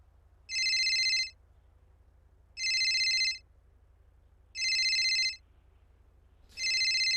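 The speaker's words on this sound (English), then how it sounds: "I'm getting a phone call and I'm in cuffs." A phone rings in the GTA V FiveM video game: four evenly spaced electronic ring bursts, each about a second long, loud and clear over near silence.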